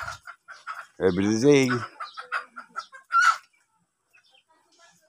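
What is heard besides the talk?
pet chickens clucking while being fed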